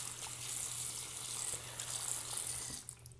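Tap water rinses a King 6K whetstone used for honing straight razors, a steady close hiss of running water that cuts off just before the end.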